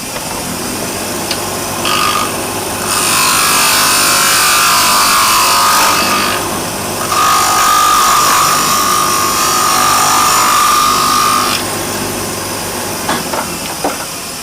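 Wood spool knitter turning on a lathe as a tool cuts and cleans up the tapered hole and flattens the bottom, a steady hissing, scraping whine that swells and fades in long passes over a low motor hum, with no talk.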